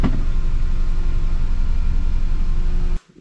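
Dacia Logan taxi petrol engine idling, a loud steady close rumble with an even hum that runs unchanged for about three seconds, then cuts off abruptly.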